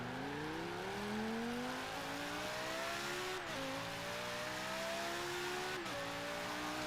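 A Lamborghini Gallardo in Forza Horizon 3 revs at full throttle, its engine pitch climbing steadily through two upshifts, each marked by a brief dip and drop, loud and continuous with no talk.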